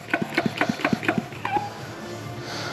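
Rapid rhythmic hand-pump strokes as a brake and clutch cleaner sprayer is pumped up, about eight quick close squeaky pumps followed by a brief hiss and quieter background.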